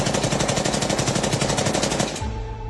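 A loud burst of rapid automatic gunfire rattles in quick succession for about two seconds, then cuts off abruptly, leaving a fading low rumble.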